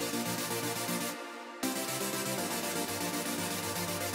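Bright, wide saw synth lead built in FL Studio with reverb on its upper range, playing a sustained chord that briefly drops out and returns, loud and dense.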